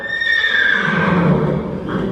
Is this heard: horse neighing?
yes